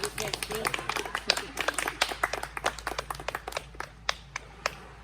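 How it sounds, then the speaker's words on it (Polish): Theatre audience applauding the actors after a performance, with individual claps distinct and sparse, thinning and fading toward the end as the clapping dies away. "Brawa dla nich."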